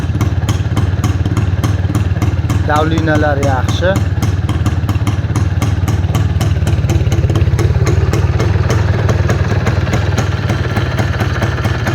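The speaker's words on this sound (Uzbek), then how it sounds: "Mana mototsikl ovozi" A motorcycle engine idles close by with a fast, even rumbling putter, steady throughout, while someone speaks briefly over it.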